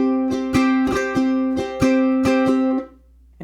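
An acoustic guitar is fan-strummed in a syncopated fingerpicking-etude pattern, with ringing chords and about eight crisp strokes in an uneven rhythm before the last chord fades out.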